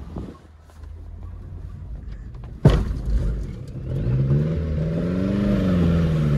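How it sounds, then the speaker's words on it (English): An ATV engine being bump-started: a sharp jolt as it catches, then the motor running and revving up with rising and falling pitch, under wind noise. "I gotta try and bump start it."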